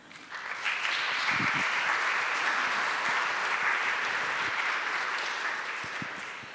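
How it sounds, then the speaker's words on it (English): Sustained applause fills an opening ceremony of an IIASA conference in Austria, a dense steady clapping that swells in and fades slightly at the end, with no voices over it. "Big applause."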